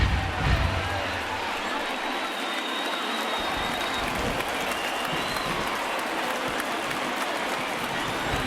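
A stadium crowd of about 35,000 cheers on its feet at a baseball game in MLB The Show 19, a steady, loud, broadband roar that holds for the whole stretch.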